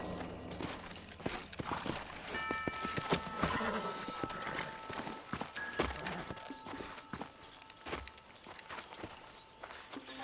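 Horse hooves from the video game Red Dead Redemption clip-clopping at a walking pace over ground, steady irregular thuds with a faint snort or whinny and a quiet ambient background.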